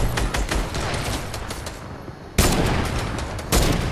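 Rapid bursts of gunfire in the Fortnite video game, dense and close, with a sharp burst of louder shots near the middle and another toward the end.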